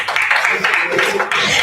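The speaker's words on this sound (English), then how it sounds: "Give them a round of applause, everyone, please." A short burst of clapping from an audience at the inauguration of the FIABCI Pavilion at MIPIM 2026, fairly close and loud, with a faint voice underneath.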